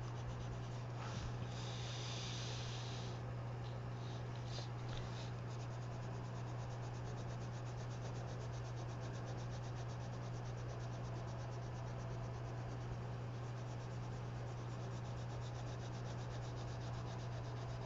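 A colored pencil smooths layers of color across a coloring page with a soft, continuous scratchy rubbing. A steady low electrical hum sits underneath.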